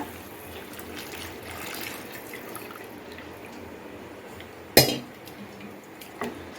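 A spoon stirs coconut water halwa thickened with cornflour in a pan, with a couple of sharp metallic clinks against the rim over a steady simmering hiss. No voices.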